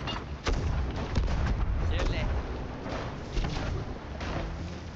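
Ship cannons firing in the video game Sea of Thieves, several heavy booming shots in quick succession amid battle noise, with a voice speaking over them.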